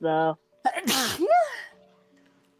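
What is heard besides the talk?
sneeze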